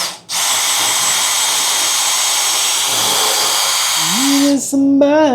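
A power drill bores a pilot hole in a kickstand plate for a Harley motorcycle, whining loudly and steadily for several seconds before stopping, then spinning up briefly again in short rising bursts.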